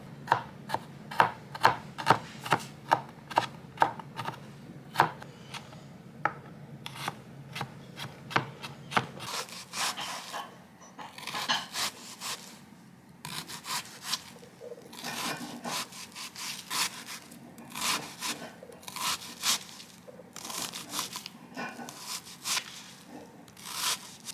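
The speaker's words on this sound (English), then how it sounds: "she is mincing the garlic for me" Garlic cloves are minced with a knife on a cutting board in a home kitchen, first as sharp, evenly spaced chops, then as faster, softer, scraping cuts that continue close by.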